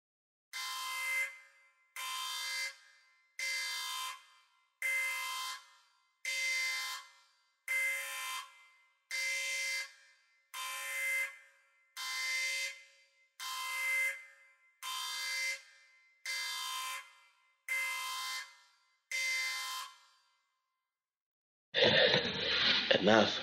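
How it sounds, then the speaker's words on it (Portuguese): An alarm sounding inside a spaceship in a radio drama gives about a dozen evenly spaced electronic blasts, each a bit over a second long, followed by a short pause and then a burst of noisy rumble at the end. "soa o alarme dentro da nave dos nossos amigos."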